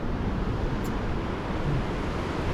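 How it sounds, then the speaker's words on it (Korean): Ocean waves along the East Sea coast, a continuous broadband roar of surf with wind rumble, loud and steady throughout with no voices. "이게 동해안의 파도네"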